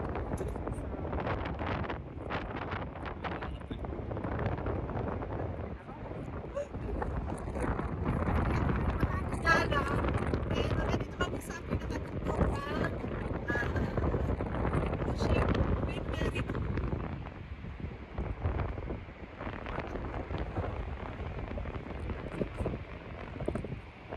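Steady gusting wind on the outdoor deck of the cruise ship Queen Mary 2 buffets the microphone in a roaring rush, with voices talking underneath throughout.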